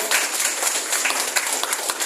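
Audience applause at a political gathering, a dense and fairly loud wash of many hands clapping without a break, with no clear talk on top.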